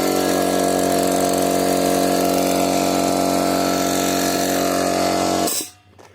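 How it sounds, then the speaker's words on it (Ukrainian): An air compressor runs steadily at close range with a loud, constant mechanical hum and hiss, then abruptly shuts off near the end as it finishes pumping up. "Так, компресор вже підкачався."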